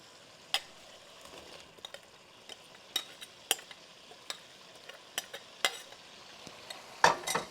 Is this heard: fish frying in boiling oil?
yes